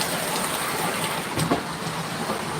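Rain runs down window glass in a steady, soft hiss of close wash, with a slight swell midway and no voices.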